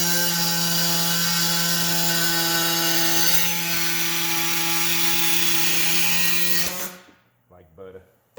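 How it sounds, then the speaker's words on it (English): Air saw cutting metal held in a vise, a steady loud high-pitched buzzing whine running continuously before cutting off abruptly, followed by a few quieter clatters. "We're using the air saw to cut it off."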